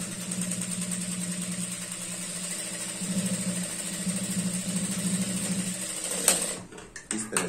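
A sewing machine stitches a pant waistband in a steady, loud, continuous whirring run that stops abruptly near the end, followed by a few brief clicks and handling noises.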